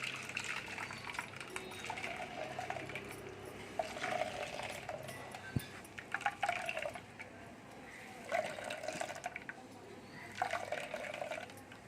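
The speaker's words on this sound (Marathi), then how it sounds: "चोथा तिच्यात टाकून घ्यायचं आहे आणि नारळाचे दूध असे छान पिळून काढायचे आहे।" Coconut milk squeezed by hand through a cloth from ground grated coconut mixed with hot water, producing close, wet splashing trickles and gushes that come in several bursts with brief pauses between them.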